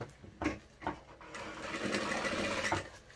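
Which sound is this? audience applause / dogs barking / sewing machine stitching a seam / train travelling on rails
sewing machine stitching a seam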